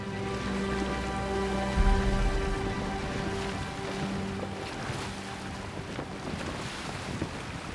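Boat sailing on the Nile in an Assassin's Creed game set in ancient Egypt: steady rush of wind and water around the hull with a continuous low drone, an even close-up wash of sound with no talking.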